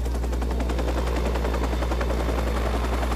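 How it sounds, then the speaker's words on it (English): A police helicopter in the Watch Dogs video game thunders with a dense, continuous rotor roar close by, loud throughout with no talk. "I'm about to get sniped by a helicopter"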